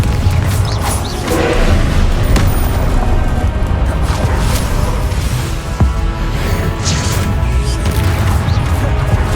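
Confringo explosive spell blasts in Hogwarts Legacy, a loud, dense stream of booms, crashes and mechanical clatter running throughout the combat with no pause.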